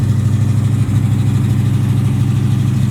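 Loud, steady idle of a Chevy box car engine running close by, a dense low rumble with a slight rhythmic lope that holds unbroken throughout, no talking.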